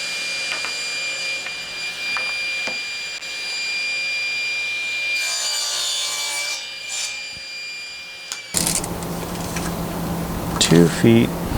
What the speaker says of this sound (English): So now we need to cut off the ends, because they've got holes in them and different things.